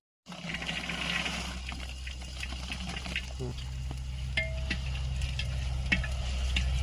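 Spices, oil and shelled pea and bean pods frying in a pan, village-style home cooking; a close, steady sizzle with a low hum beneath and scattered clicks and stirring sounds, no speech.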